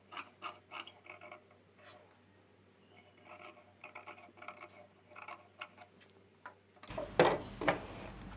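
Scissors snip through blouse lining fabric in a series of close, crisp cuts with short gaps between them, ending in a louder rustle of handled cloth.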